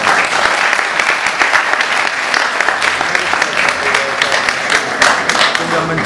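Sustained, dense applause from an audience closing a talk at a culture forum in Envigado, steady and fairly loud throughout with many overlapping claps.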